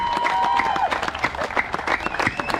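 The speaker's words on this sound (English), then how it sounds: "The harder you clap, the better he goes up." Audience at the Polynesian Cultural Center on Oahu clapping for a performer, brisk scattered hand claps over crowd murmur with a brief tonal whistle or shout early on, short and lively.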